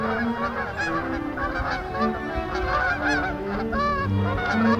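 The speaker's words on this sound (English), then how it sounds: "Canada geese." A flock of Canada geese honks continuously, many overlapping calls blending into a loud, busy chorus with no pauses.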